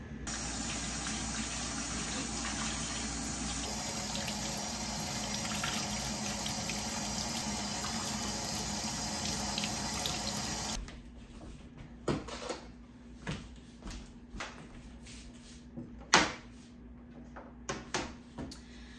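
Cucumbers freshly picked for crispy canning pickles rinsed under a running kitchen tap: a steady broadband gush of water for about eleven seconds, then the flow stops, leaving scattered light knocks and splashes of handling.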